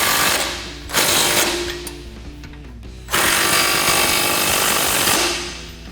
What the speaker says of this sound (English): we're gonna use a 16 mil crescent here and an 18 mil socket on the nut side